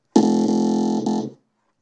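The bricks tool in Tux Paint gives a loud, steady electronic buzzing tone, close and alone. It holds for about a second, breaks briefly, then resumes and cuts off.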